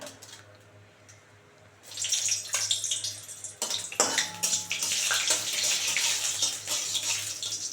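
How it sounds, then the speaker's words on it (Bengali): Dried red chillies hit hot mustard oil and break into a loud, steady crackling sizzle after a quiet start, with scattered sharp pops. "গরম হয়ে গেছে, আগে আমি 4টে লঙ্কা, শুকনো লঙ্কা এই যে"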